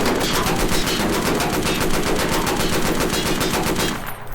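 Loud, rapid automatic gunfire in the Roblox game War Tycoon rattles without a break for about four seconds, then cuts off abruptly.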